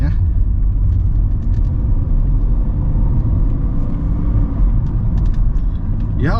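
Mercedes-Benz S 320 W220 pulling away under acceleration, a steady, deep engine rumble with road noise heard from inside the cabin, continuous and loud for several seconds.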